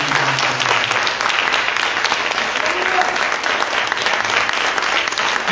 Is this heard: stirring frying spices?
no